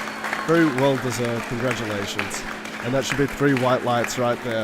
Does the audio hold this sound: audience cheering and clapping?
yes